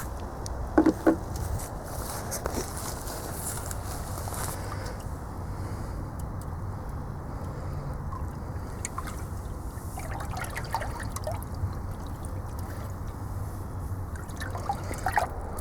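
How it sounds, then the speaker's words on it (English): Water stirred by hand in a tub heated by an underwater woodstove, a steady soft trickling and sloshing with occasional drips, close and continuous, no talking. "I just stirred that up with my hand"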